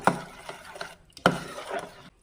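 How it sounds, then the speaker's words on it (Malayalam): Stirring creamed tender coconut for a homemade natural tender coconut ice cream: two bursts of spoon scraping and mixing in a bowl, close and fairly quiet, separated by a short pause, with no talking. "നന്നായിട്ട് നമുക്കൊന്ന് ഇളക്കി കൊടുക്കാം"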